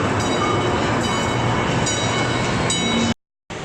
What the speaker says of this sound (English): A train.